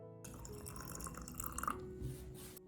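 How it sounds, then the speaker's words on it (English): Brine poured over garlic cloves in a jar, a steady close liquid splash and trickle with small drips, running continuously with no talk. "Pour the solution over the garlic in the jar, making sure the cloves are fully submerged"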